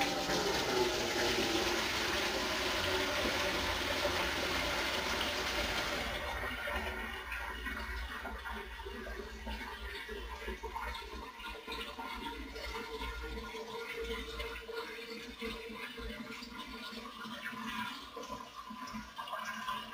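Water gushes loudly into a container for several seconds, then eases into a softer, steady trickling fill that continues to the end.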